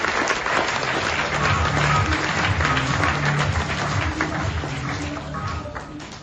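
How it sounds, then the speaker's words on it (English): A conference audience in Phuket applauds continuously, dense clapping that stays strong and then slowly thins out toward the end. "give a round of applause to all the devs and to all the tech team"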